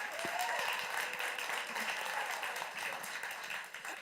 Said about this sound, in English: Another round of applause for the beautiful Letta Mbulu.